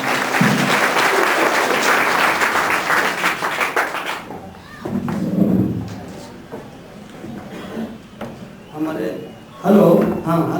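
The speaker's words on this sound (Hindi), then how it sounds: "जोरदार तालियों से इस्तकबाल फरमाएं।" An audience at a Mansoori community conference in Kaisarganj, Bahraich, gives a guest a hearty round of clapping for about four seconds, loud and close, before it cuts off and a man's amplified speech takes over.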